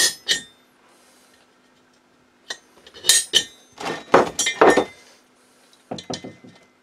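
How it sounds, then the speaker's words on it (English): Sharp metallic taps from hammering a center punch on metal ring out in small clusters, a couple early, then a busier run of strikes, with quiet gaps between. "just dot punch it."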